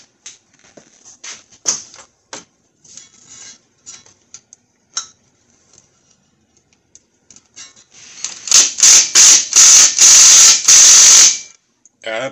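Ratchet wrench working a rusted 10 mm bolt holding a wheel speed sensor on a 2011 Ford Fusion: sparse clicks early, then a dense burst of rapid ratcheting clicks near the end, close and loud with no talk.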